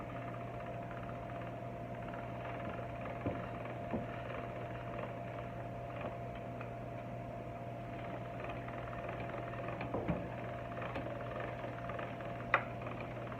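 Motorized pasta machine running steadily as a sheet of pasta dough is fed through its rollers, a constant low mechanical hum with faint clicks and small knocks over about thirteen seconds.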